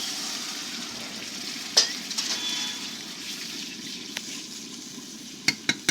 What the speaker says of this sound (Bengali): মশলাটা ফুটে উঠুক